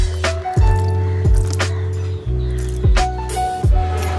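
A bike is wetted with water and Dettol for sanitizing, in a series of close, squelchy liquid squirts repeating roughly every half second with gurgling, dripping tails.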